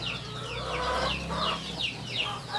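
Chickens cluck steadily on a small home farm around feeding time, a dense, close, continuous chorus of overlapping clucks and calls with no talking.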